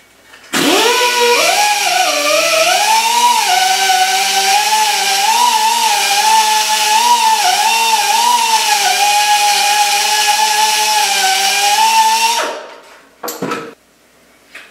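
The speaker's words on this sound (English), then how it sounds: "Now I have our die grinder equipped with a 1-inch A medium cross buff, and we're going to clean out the inside of this 1-inch ID pipe." A Dynabrade right-angle die grinder fitted with a 1-inch A medium cross buff cleans the inside of a 1-inch ID steel pipe, whining loudly and continuously at close range for about twelve seconds, its pitch wavering under load before it spins down.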